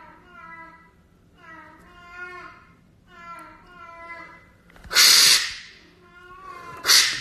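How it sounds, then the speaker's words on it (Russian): A house cat yowling loudly in repeated drawn-out meows, three or four close cries, followed by two sudden bursts of someone shouting angrily over it. "чем по дому ходила кошка, которая орёт в поисках"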